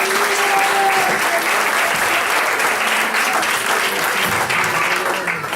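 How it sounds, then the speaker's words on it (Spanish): A church congregation applauding during a service, a loud, sustained burst of many hands clapping together, with faint tonal sounds and background voices mixed in, easing slightly at the end. "denle un aplauso al Señor."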